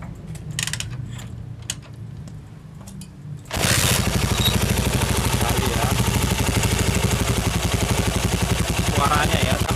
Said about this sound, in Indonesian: Dengar mas suara mesinnya.